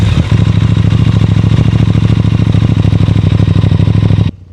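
A motorcycle engine runs loud and close in a steady, rapid thumping rhythm, then cuts off abruptly just before the end.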